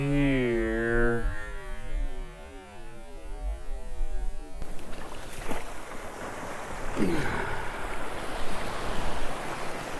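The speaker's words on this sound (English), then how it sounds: "We're gonna let that wave go back down them, make the sand hard" Ocean waves wash up and drain back over beach sand where sand fleas are dug, a steady rushing surf that fills the second half after a stretch of tonal sound.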